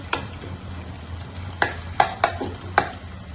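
Green gram and jackfruit cook in a pan for a sweet payasam, with five or six sharp spoon scrapes over a low, steady sizzle, close up and without talk.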